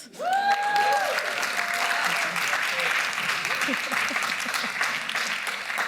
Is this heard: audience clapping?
yes